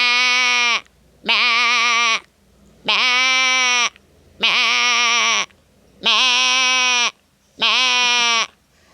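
A voice imitates a goat bleating: six drawn-out, wavering bleats, each about a second long, close and loud with short silent gaps between them.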